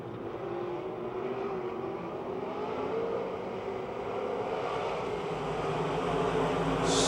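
Race cars lap Pennsylvania Motor Speedway in Pittsburgh, a continuous engine roar swelling slightly as the pack passes, with no commentary over it.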